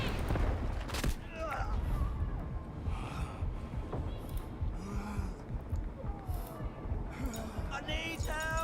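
Artillery barrage explosions in a video game thud and boom repeatedly amid chaotic battlefield noise, with players talking over the blasts.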